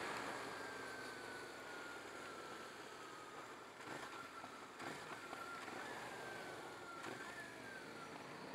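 A 2023 CFMoto 450SS sport bike's engine revs steadily while riding, with a broad continuous drone and a gear shift dip partway through; no one talks.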